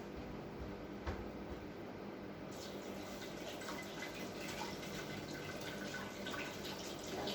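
Hands are washed under a running tap, giving a steady, close rush of water with faint splashes and a single small knock early on; no voices.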